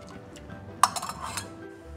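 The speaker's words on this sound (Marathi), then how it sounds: "आता हे सगळं मी छान मिक्स करून घेते" Milk, sugar and milk powder stirred together in a pan for mango rasmalai, giving a single sharp clink of a spoon against metal followed by a few lighter scraping taps, close and alone over a low background hum.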